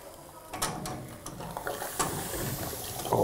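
Hot, freshly fired obvara ceramic hisses and crackles as it is dipped into flour water and then into plain water, with faint bubbling and a few sharp clicks over a low background rumble.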